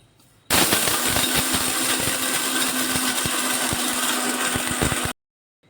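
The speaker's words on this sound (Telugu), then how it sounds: "ఇవన్నీ కలిపి మనం మిక్సీ పట్టేద్దాం." A mixer grinder whirs loudly and steadily, grinding roasted curry leaves, sesame seeds, salt and spices, with rattling clatter throughout; it starts abruptly and stops cleanly after about five seconds, with no talking.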